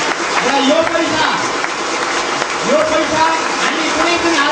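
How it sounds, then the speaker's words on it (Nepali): An audience at a Puran recitation gathering applauds, with a dense, continuous patter of many hands. A voice speaks loudly over the clapping the whole time. "थपडी मारौँ"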